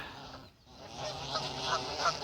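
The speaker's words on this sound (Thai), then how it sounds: "เสียงเป็ดนางทำอะไรกัน" Several waterfowl honk and quack at moderate distance, a few overlapping nasal calls against soft outdoor background noise.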